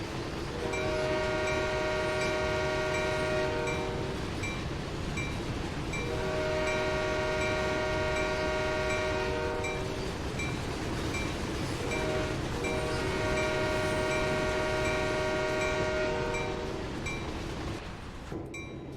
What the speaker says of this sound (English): blow the horn